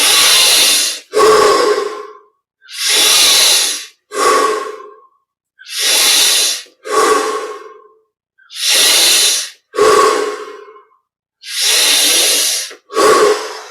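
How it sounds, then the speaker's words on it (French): Deep, slow breathing exercise during a yoga meditation session, with about five paired cycles of long, loud, airy inhales and exhales close to the listener, each breath separated by short pauses. "On augmente l'amplitude de la respire."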